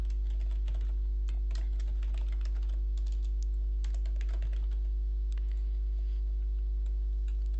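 Fingers type an email address on a computer keyboard, a steady run of light, close clicks and taps throughout with a constant low hum beneath and no talking.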